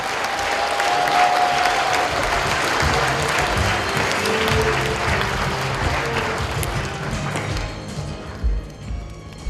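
Loud, sustained applause from a large audience at a national unity day celebration concert, filling the full length with dense clapping before thinning out near the end.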